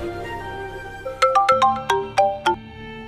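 A mobile phone ringtone for an incoming call plays a quick bright melody of about eight plucked, bell-like notes in a bouncy rhythm, clear and alone over a quiet background.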